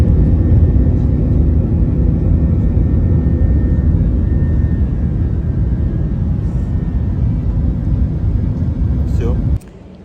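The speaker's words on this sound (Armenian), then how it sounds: "Ինքնաթիռ։" An airplane gives a loud, continuous close-up roar and rumble that holds steady before cutting off abruptly near the end.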